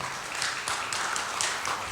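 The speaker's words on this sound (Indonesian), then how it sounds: "Kasih tepuk tangan jangan ragu-ragu, saudara." Church congregation at a Sunday worship service in Bekasi applauding, a dense, steady wash of clapping filling the room at moderate level for a couple of seconds.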